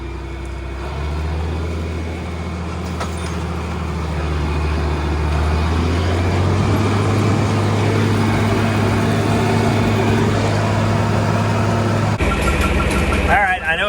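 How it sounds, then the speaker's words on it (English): A John Deere tractor engine rumbles steadily at close range while planting in a field, its low drone rising in pitch as it works harder, then a brief rattle near the end. "we'll just set it in the ground so you can hear the tractor work"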